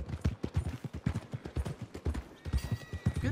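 Horse hooves clip-clop in a steady, close rhythm near the stables in Red Dead Redemption 2, loud and continuous with a brief whinny mixed in and no talking.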